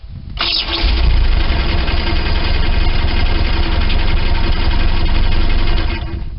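A Bayliner Capri boat engine cranks and catches after a brief starter whir, then settles into a loud, steady running rumble close to the microphone before tapering slightly at the end.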